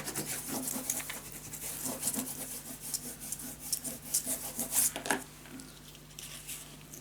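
Paper being burnished down onto a lace scrapbook mini album, heard as close, irregular rubbing and scraping strokes in short bursts, with a quieter stretch near the end and no voices.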